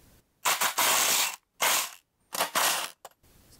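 A ratchet wrench loosens small 10 mm bolts from the covers of a John Deere 100 series lawn mower. The clicking comes close and loud in three quick bursts with short pauses between them, and no one talks.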